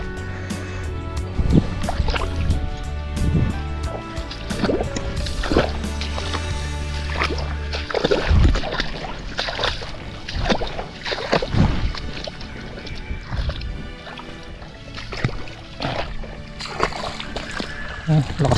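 Irrigation water gushes strongly into a flooded rice field, a loud continuous rushing splash with bursts of sloshing, while someone talks over it.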